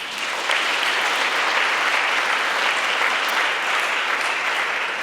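Sustained audience applause at a European youth prize ceremony in Aachen, a dense, steady wash of many hands clapping at constant loudness for several seconds, with no speech over it.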